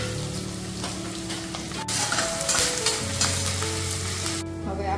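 Garlic and onion fry in a hot pan for a Kathiyawadi meal, a loud, close, steady sizzle that swells as more is added, with scraping and stirring sounds throughout.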